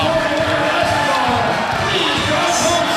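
A high school boys basketball crowd roars as the home cheer block storms the court after a game, a dense and continuous wall of cheering, whooping and shouting that stays loud for the whole stretch.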